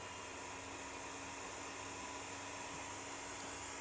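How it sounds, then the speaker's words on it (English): Hot air rework tool heating a PS5 Slim southbridge on a board in a preheater, a faint, steady airy hiss with a constant low hum underneath. "I'm heating up this until the Southbridge pops off"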